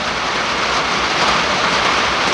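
Heavy rain drums on a tin roof in a dense, constant hiss and patter, loud and unbroken from start to end.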